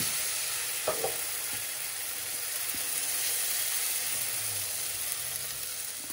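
Moong dal cheela batter cooks in a non-stick pan, an even, fairly quiet sizzle and hiss throughout with a couple of faint clicks early on.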